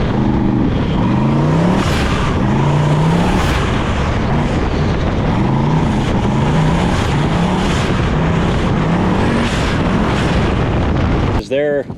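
A loud 1000-horsepower Alumicraft sandrail engine roars continuously, its pitch rising and falling as it revs hard under load, with a brief clatter at the end.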